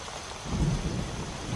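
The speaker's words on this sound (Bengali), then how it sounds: "আর টিপটিপ করে বৃষ্টি পড়ছে একটানা।" Steady light rain patters without pause, with a low rumble swelling underneath partway through; no voices.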